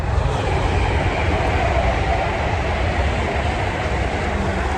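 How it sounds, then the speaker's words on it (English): A broad, steady rumbling roar of a passing train, continuous and moderately loud, with no talk over it. "If you can hear that train going past there."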